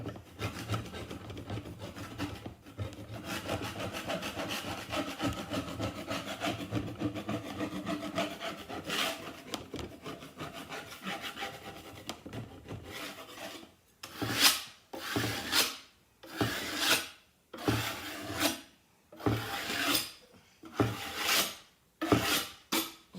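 Material is scraped off a surface above a drop cloth, first as a long continuous rasping rub. It then breaks into a series of separate, louder strokes, each a brief, gritty scrape, close up.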